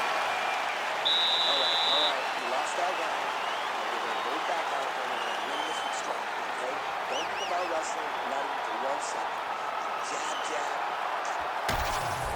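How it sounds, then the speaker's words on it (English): An arena crowd cheers loudly and steadily during a UFC women's fight, a continuous roar under a commentator's voice. "Crowd going crazy."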